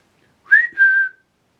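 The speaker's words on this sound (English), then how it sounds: "If I whistle, can you whistle back?" A person whistles two short clear tones, a rising note followed by a steady held one, alone in a silent, empty old hall.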